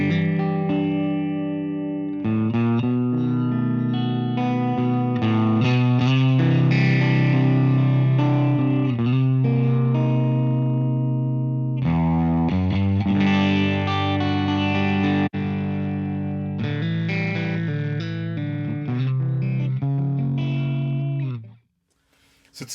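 A crunchy, distorted electric guitar through a Laney LA-Studio cabinet impulse, miked with a 57 and a ribbon 121, plays loud sustained chords and riffs with short pauses, ending in a brief drop to silence.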